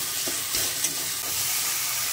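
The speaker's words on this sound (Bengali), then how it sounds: "তারপরে এটা একটু ভাজা ভাজা হয়ে গেলে চালটা ভেজে নেব।" Rice fries in a little oil with salt, turmeric and cumin powder, giving a steady close sizzle with soft stirring scrapes, loud and continuous, and no talk.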